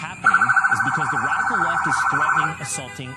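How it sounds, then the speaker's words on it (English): A loud wailing police siren on federal vehicles rises and falls steadily for a couple of seconds, close by, with a voice talking underneath and a brief horn-like blip at the end. "federal vehicles start moving toward the maroon SUV, with sirens and lights blaring"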